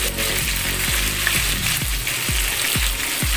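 Onions sizzling loudly as they fry in a pan with meat for beef nihari, a dense continuous crackle punctuated by several evenly spaced stirring knocks, close up and without talk.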